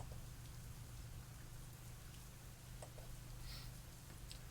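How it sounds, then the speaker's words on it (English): Steady, dense rainfall of a heavy downpour in a Snoot Game mod scene, continuous and faint, with scattered drips ticking on surfaces over a low rumbling bed. "listening to the sounds of the downpour and echoing thunder around us"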